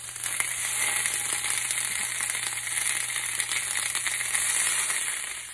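Corn tamales crackle and sizzle steadily on a very hot comal, a dense close frying hiss with fine pops running throughout without any talking.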